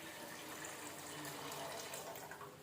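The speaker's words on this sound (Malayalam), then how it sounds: "നമ്മൾ എടുക്കുന്ന അരിക്ക് മുങ്ങിക്കിടക്കാൻ ഭാഗത്തിന് വെള്ളം ഒഴിച്ചെടുക്കാം" Water pours steadily into a pot of rice, a continuous wash of running liquid with no voices.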